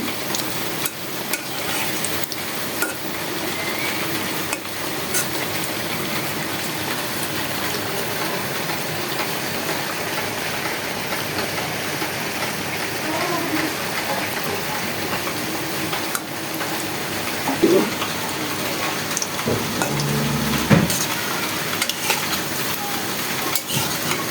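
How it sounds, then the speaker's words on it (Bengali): Fish kababs fry in hot oil in a pan with a steady, continuous hiss and sizzle, joined by occasional utensil knocks and scrapes as the pieces are turned. No one speaks. "তেলটা গরম হয়ে গেছে আমি এখন কিছু কাবাব ভেজে নিচ্ছি"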